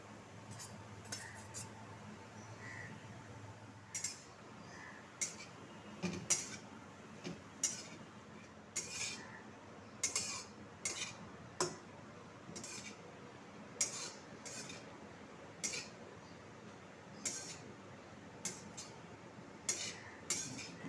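Grated coconut stirred in hot ghee in a wok, heard as quiet, irregular metallic scrapes and clinks of a spoon against the pan over a faint background.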